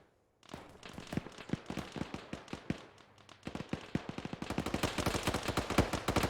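Dense gunfire from an Arma 3 battle crackles in quick overlapping shots, starting sparse and building into a loud, continuous fusillade with scattered louder cracks.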